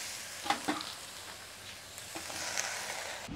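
Sour leaves dropped into a hot kadai crackle and sizzle, with a few sharp spits near the start and then a steady low frying hiss that carries on alone.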